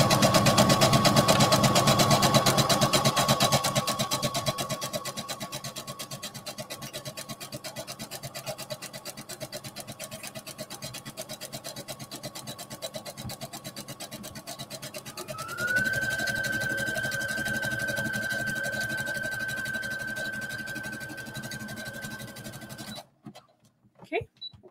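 Sewing machine running steadily as it zigzag stitches clear elastic onto the arm edge of a sports bra, a continuous whirring motor hum that shifts pitch partway through, then stops abruptly near the end.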